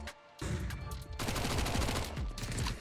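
Rapid automatic gunfire erupts in a first-person shooter, a brief opening burst followed by a sustained, loud, crackling stream of shots that runs almost unbroken to the end.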